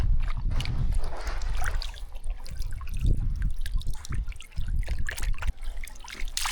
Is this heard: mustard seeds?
no